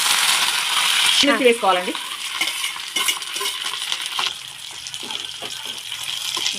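Mustard seeds, cumin and two dry red chillies sizzling in hot oil for lemon rice, a loud close hiss with scraping stirs and light pops, and someone speaks briefly over it.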